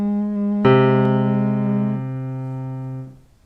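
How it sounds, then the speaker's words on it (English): A single piano note struck once and left to ring, a clear sustained tone that fades slowly over about three seconds in a quiet room. "now we want to try to find it on the piano"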